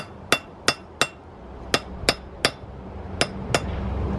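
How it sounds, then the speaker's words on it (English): A hammer strikes a hot forged arrowhead on an anvil in eight sharp metallic rings, spaced unevenly about a third of a second apart, close and loud over a faint steady background hum. "The anvil actually tends to give a better side than the hammer does"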